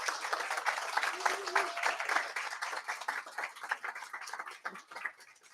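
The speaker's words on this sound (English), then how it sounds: "give a round of applause for the WYK graduates" Guests at a graduates' celebration event applaud, a continuous spread of clapping with scattered voices and cheers, fairly distant and thinning out toward the end.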